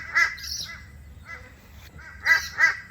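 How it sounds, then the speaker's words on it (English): A crow caws in harsh, repeated calls, a pair at the start and a louder burst of caws near the end, close and clear over a quiet background. "Who are you stirring up, Mr. Crow?"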